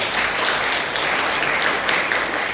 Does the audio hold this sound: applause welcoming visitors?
yes